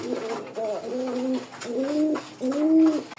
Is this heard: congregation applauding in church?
no